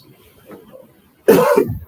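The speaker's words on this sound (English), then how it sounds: "It just coughed and I got that." A single loud, close cough bursts out after a stretch of quiet, low background noise.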